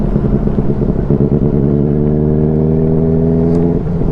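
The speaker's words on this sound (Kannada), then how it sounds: "ನನ್ನ ಸೈಲೆನ್ಸರು, ಬೈಕ್ ಸೈಲೆನ್ಸರು ಲೈಟಾಗಿ ಪಾಪ್ ಆಯ್ತಿದೆ" A motorcycle's engine rumbles steadily while riding, with a low, pulsing exhaust burble through the silencer and faint light popping throughout.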